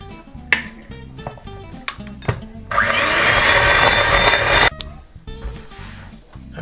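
An electric mixer beats egg into a creamed butter and sugar mixture for lemon biscuits, a loud steady whirring burst of about two seconds, framed by clattering bowl and utensil knocks before and after.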